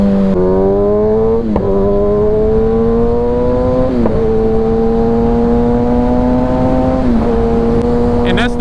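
A motorcycle engine revs close and loud in a steady, unbroken drone whose pitch climbs gradually, then drops sharply about three times as the rider shifts gears.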